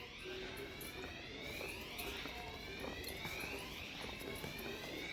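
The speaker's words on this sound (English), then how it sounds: "It sounds like some alarm is going off in one of the other rows." Electronic alarm sounding continuously from another aisle of a Lowe's home improvement store, a steady repeating sweeping tone heard at moderate distance over store ambience.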